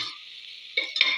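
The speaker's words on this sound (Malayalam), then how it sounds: "പിന്നെ അടുത്തത് കുറച്ച് പച്ചമുളക്, കുറച്ച് വറ്റൽ മുളക് 2-3 തട്ടിയിട്ട് അതിനോട് വാട്ടിയെടുക്കും." Green chillies and dried red chillies sautéing in a hot pan, a steady broad sizzle with two sharper bursts of stirring toward the end, close and alone with no talk.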